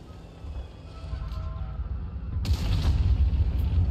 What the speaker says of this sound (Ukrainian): Кіберспортивний постріл, нічого не скажеш.